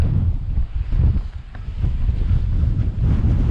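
Strong wind buffets the microphone on open moorland near a quarry at Pule Hill, Marsden: a continuous, loud, low roaring rumble with gusty swells and no voices.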